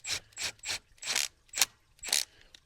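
Quick ratchet clicks running a bolt back down on a Ford 7.3 Powerstroke thermostat housing, six short bursts in an uneven rhythm, close and moderately loud with no speech.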